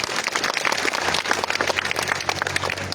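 Audience at a sports tournament final applauding the guests, a steady patter of clapping at moderate distance without talk.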